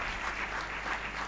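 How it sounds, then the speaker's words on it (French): A room full of people claps for a speaker after a pitch, with dense, even applause held at a steady level throughout. "Merci beaucoup, on t'applaudit."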